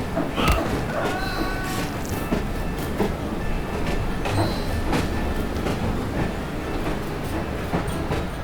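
A train in Assassin's Creed Syndicate rolls steadily along with rhythmic clacking of wheels and occasional metallic squeals, continuous and fairly close, no talking.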